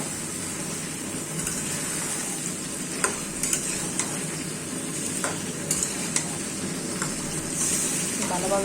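Sliced round potatoes frying in a red spice masala for a fish, tomato and potato curry, a steady dense sizzle throughout with a few sharp stirring clicks from a spoon against the pan.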